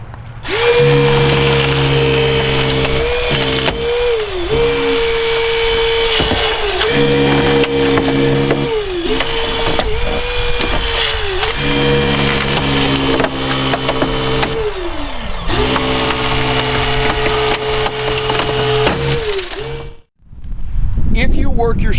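Hydraulic rescue spreader driving into a car's inner door panel during side-access extrication, a loud steady mechanical whine with repeated pitch shifts as the tool cycles and strains, running almost continuously before a brief cutoff near the end.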